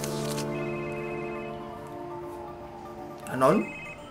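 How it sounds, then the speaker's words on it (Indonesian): A phone ringing in the video game Marvel's Spider-Man, a steady electronic ringtone tone that fades out, followed by a brief rising vocal sound near the end. "eh telepon."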